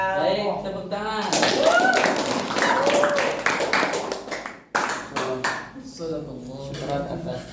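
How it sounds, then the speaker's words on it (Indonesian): Classroom applause mixed with voices, as students clap in a short rapid burst at the end of a school lesson on fasting, while people talk over and after the clapping. "Baik, tepuk tangan."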